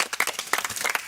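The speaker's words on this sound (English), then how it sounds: "Why don't you give her a round of applause?" A small group on a Gulder Ultimate Search outdoor reality show claps briefly, with several separate quick claps in about a second.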